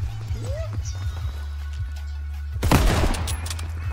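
A sniper rifle shot rings out in Call of Duty WW2 gameplay, one loud sharp crack with a ringing tail near the end, over steady game background noise.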